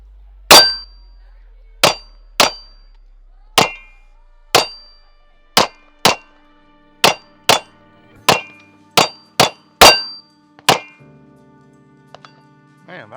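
An Echelon 4.0C pistol fires a full magazine, with about a dozen sharp, loud reports in an uneven cadence and short pauses between shots, followed by faint handling noise.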